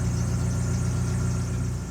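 Steady low engine hum with a faint whir runs without a break, close and even, like a motor idling after starting, with no voices over it.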